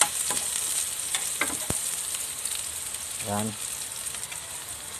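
Ginger and onion frying in a pan, a continuous close sizzle with occasional spatters and a brief clatter of stirring, while a voice says a single word near the start.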